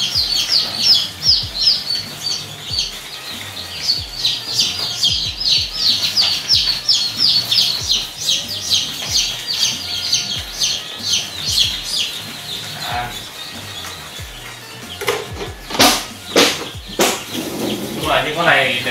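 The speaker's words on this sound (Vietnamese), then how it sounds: "Những con này đều là những con gà kiểu nó thẳng và không có khả năng lớn được" Chickens on a Vietnamese farm cluck and squawk in quick repeated bursts at close range, a steady busy chatter of fowl that continues throughout, with a few sharp knocks near the end.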